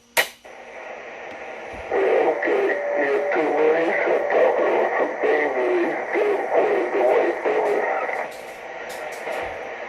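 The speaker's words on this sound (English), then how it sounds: "But I hear all that static crashing from the radio tower" Crackling static bursts from a CB radio during an antenna test of a Sirio SY27-4 with an MFJ-974H tuner, a steady hiss and crash that holds for most of the stretch after a sharp click at the start.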